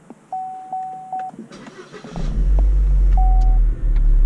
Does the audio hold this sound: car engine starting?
yes